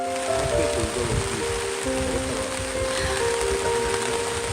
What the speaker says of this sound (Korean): 아, 빗소리 너무 좋아요